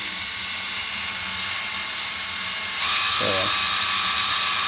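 A dirty countertop is scrubbed with cleaner, giving a steady close buzzing scrub that grows louder partway through, with a short whirring burst near the end and faint talk underneath.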